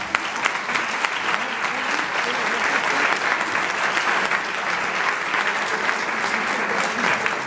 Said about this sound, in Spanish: Un fuerte aplauso tenéis que darle.